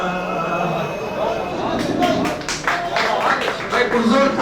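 Audience applause at a poetry recital gathering, a scattered patter of clapping hands rising midway over a murmur of the room, fairly close and moderately loud.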